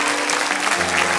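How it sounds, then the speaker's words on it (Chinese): Studio audience at a televised dating show clapping loudly and steadily in a short sustained burst, with faint voices mixed underneath. "掌声欢迎"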